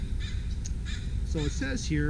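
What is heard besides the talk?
crow cawing in background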